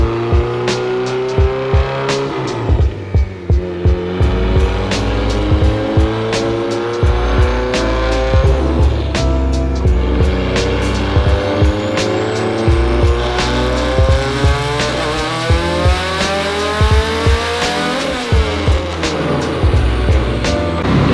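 A Mitsubishi Evo 8 engine revs hard through a dyno pull, a loud, continuous rising roar with sharp pops and crackles as it climbs repeatedly through the rev range, with no talking.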